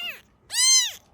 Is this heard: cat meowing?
yes